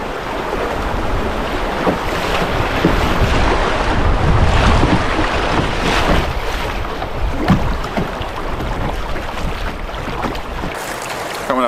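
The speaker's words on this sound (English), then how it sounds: "Coming up to a section where should have a few more rapids a little closer together" A small boat runs river rapids on a wild backcountry river, with loud, continuous rushing and splashing water and heavy wind buffeting the microphone.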